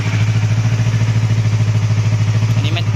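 A KTM Duke 250 or Yamaha MT-03 motorcycle with a large exhaust idles up close in a steady, rapid low thumping pulse, loud and continuous without talk.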